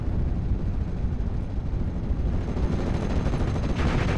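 An HS-129 ground-attack aircraft strikes during a battle at Pointe du Hoc in the Steel Division: Normandy 44 video game, with a dense, unbroken rumble of gunfire and blasts throughout.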